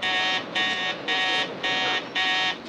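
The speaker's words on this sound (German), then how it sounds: "wir haben Alarm für Hitzeschild" A heat shield alarm buzzer sounds in spacecraft mission control, a loud, harsh electronic tone pulsing in about five even bursts with short gaps, alone without voices.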